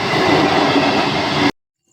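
A train rolls loudly past a railway level crossing with a dense, continuous roar of wheels and carriages, then cuts off abruptly to silence.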